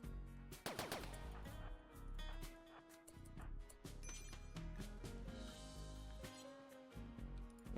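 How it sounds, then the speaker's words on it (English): Gunfire in a RimWorld colony fight as shots strike a power conduit: a sharp burst of cracks near the start, then scattered impacts and clanks over a busy layer of game music and effects. "Oh, you're shooting at a power conduit."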